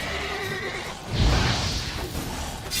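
Geralt's horse Roach in The Witcher 3 gives a loud, close neigh that rises and trails off, over faint game ambience, with a soft thud near the end.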